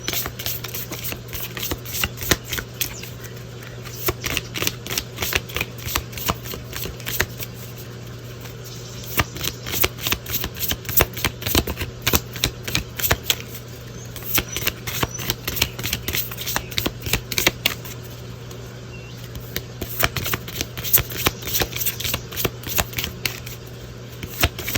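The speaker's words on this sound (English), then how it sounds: "So I'm gonna continue to try to shuffle them until we get one." Playing cards are shuffled over and over at close range, with rapid riffling bursts and crisp repeated flutters that stop and start in an irregular rhythm. No one speaks.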